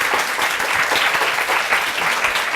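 A conference audience claps loudly and steadily, dense applause filling the room without a break.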